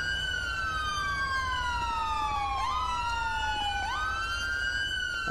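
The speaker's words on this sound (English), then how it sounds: "Siren check, I know." A police car siren wails in a video game, its tone sweeping down and then jumping back up in a repeating cycle, loud and close with no talking over it.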